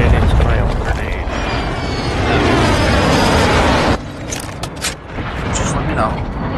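A grenade blast in a video game, a loud, dense roaring rumble filling the first four seconds before breaking into scattered debris crackles and thuds, close and overpowering.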